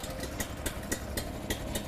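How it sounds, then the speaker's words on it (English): A zero-turn snowplow engine runs at a steady idle just after starting, a continuous mid-pitched rumble with faint regular ticks and no voices. "Once the engine has started to run and warms up"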